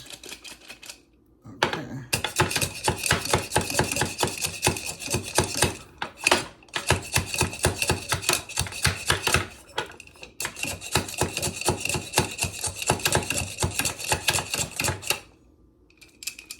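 Food for a Million Dollar Pie is chopped on a board in long runs of fast, sharp, even knife strikes, close and loud, with brief pauses between bursts and no one talking.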